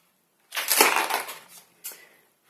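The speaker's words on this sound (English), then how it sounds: "Sorry about the turning of the page, that's going to be really loud on the microphone." A page of a colouring book turned close to the microphone, giving a loud papery crinkling swoosh followed by a shorter second rustle as it settles.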